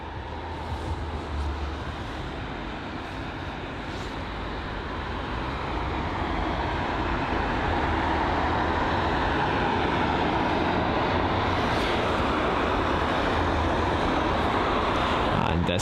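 An Embraer E195 airliner on pushback at London Heathrow gives a steady broadband roar of engines and apron noise that swells slightly and holds, distant and continuous.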